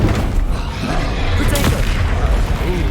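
A Confringo blasting spell goes off in Hogwarts Legacy: a loud, booming, fiery blast over a dense, rumbling wash of combat noise, with one sharp crack standing out midway.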